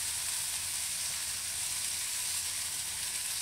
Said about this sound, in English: We send the remaining nuggets to the frying pan.